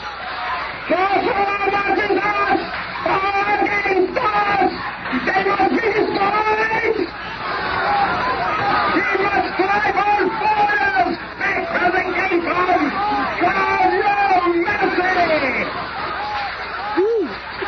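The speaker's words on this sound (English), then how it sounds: "the masked form of the Hate-Monger steers his listeners to a savage rage of unthinking emotion" In a Fantastic Four audio drama, a crowd at a speaker's platform shouts in an angry frenzy. Many raised voices overlap in a loud, continuous roar with only brief dips.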